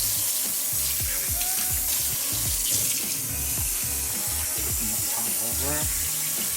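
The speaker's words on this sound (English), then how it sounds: "let's run some water over it and see how it works." Tap water runs steadily into a kitchen sink over a dish sprayed with Dawn Powerwash dish spray, a loud continuous splashing rush with gurgles and clinks, close and unbroken throughout.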